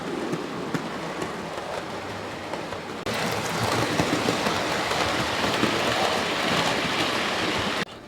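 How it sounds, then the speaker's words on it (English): An Ivet 2 model train runs around a layout, giving a steady close rattle and hiss of running on the track that grows slightly louder partway through and stops abruptly at the end. "So let's set this Ivet 2 off around the layout."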